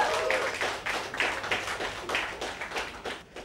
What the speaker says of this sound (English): please welcome with a round of applause Mr. Sriraam, Padmanabhan.